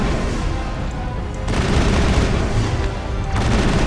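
Loud continuous gunfire during the Saren boss fight in Mass Effect, dense rapid shots with booming impacts that swell into a heavier barrage partway through, no speech.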